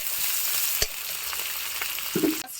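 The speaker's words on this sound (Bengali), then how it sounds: "পেঁয়াজটা ভালো মতো লাল করে ভাজি করা কমপ্লিট।" Chopped onions frying in a pan until browned, a steady bright sizzle with a couple of brief spatula knocks near the end, close and alone without speech.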